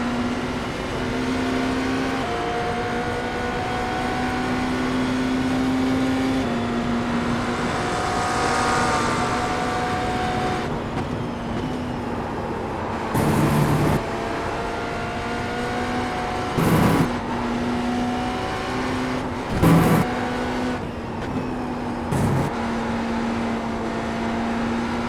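Multiple Porsche race cars lap together in the iRacing sim racing game, sustained engine drone with shifting pitch and several brief louder passes or gear-change bursts, steady throughout with no talk.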